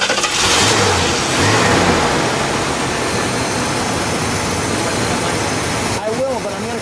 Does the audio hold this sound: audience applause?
no